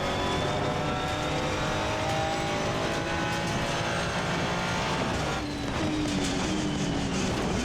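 Simulated race car laps the Nordschleife in Assetto Corsa Competizione, a loud, sustained engine note climbing and shifting through gears with steady tonal whine and no talk over it.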